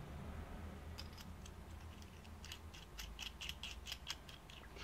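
The outer tank section of a UD Aga T7 vape is screwed onto its threads, giving faint, quick clicking and scraping ticks up close in a quiet room.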